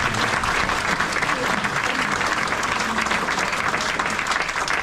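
A community meeting audience on the Central Coast applauds in a dense, steady burst of clapping that holds at an even level, with no voices over it.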